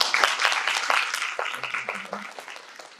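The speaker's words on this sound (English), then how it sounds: "Please give a huge round of applause." Audience applause at a geriatrics session of a healthcare symposium, fairly close clapping that gradually fades over a few seconds, with faint voices underneath.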